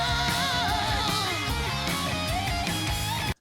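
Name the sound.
over-compressed drum mix, kick and snare punch lost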